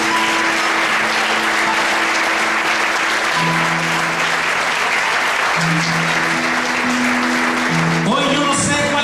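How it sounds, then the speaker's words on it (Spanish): Church congregation clapping loudly and steadily throughout, a dense wash of applause with sustained organ or keyboard tones underneath and a brief rise at the end. "Dale un fuerte aplauso a Dios."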